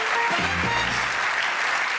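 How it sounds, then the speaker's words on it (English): Studio audience at a TV game show breaks into steady, loud, dense applause that fills the room throughout, with a brief voice heard over the start. "Give them a round of applause."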